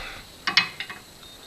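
A wrench on a Jaguar XK8 tie rod end nut gives a few sharp metallic clicks and clanks close by, two strong hits followed by lighter rattles, with no talking.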